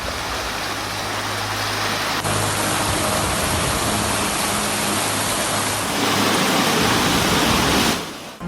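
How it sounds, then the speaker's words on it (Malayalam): Floodwater rushes out of highway drainage at Randathani in Malappuram during monsoon rain, making a loud, steady roar like a torrent that holds for several seconds. "മലവെള്ളപ്പാച്ചിൽ പോലെയാണ് വെള്ളം ഒഴുകിയെത്തുന്നത്."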